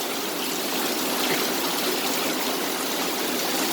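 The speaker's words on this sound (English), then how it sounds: "it's heavily raining. As you can see, coming down heavily from the roof" Heavy rain streams and pours off a roof in a steady, dense rush of water, loud and continuous throughout with no break.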